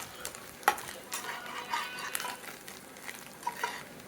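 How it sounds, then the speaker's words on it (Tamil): Grated coconut frying in a pan, quiet sizzling under scattered sharp clinks and scrapes of a spoon against the metal, close and uneven. "இது கரெக்டாக ஒரு 2 நிமிஷத்துலேயே ஓரளவுக்கு நல்லா ஃப்ரை ஆகிடும் இந்த தேங்காய்"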